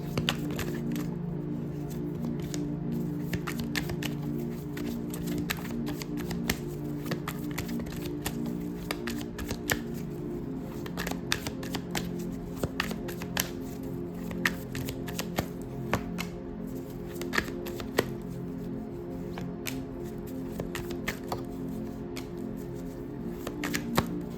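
Tarot cards shuffled by hand, a steady run of soft riffling clicks and flutters close up for the whole stretch, over a low constant room hum with no talk.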